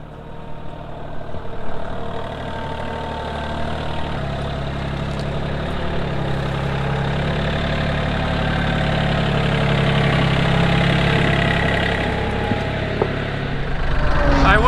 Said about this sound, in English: You guys seen enough of my little yard tractor